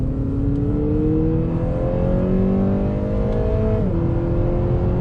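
The engine of a 2019 Acura ILX A-Spec hums steadily from inside the cabin as the car drives. Its tone rises slowly, drops once, then holds a loud, continuous drone.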